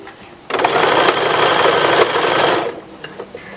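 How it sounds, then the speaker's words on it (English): A sewing machine stitches a small toddler sleeve on a 1930s–1940s style toddler wrapper, running in one steady, loud, close burst of about two seconds, with quiet room tone before and after. "you don't want to sew anything on the bottom other than, you know, what you're trying to sew"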